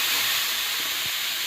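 A banana flower and coconut stir-fry, salted, sizzles in oil in a pan, producing a steady, close, bright hiss that stays even throughout without breaks or voices.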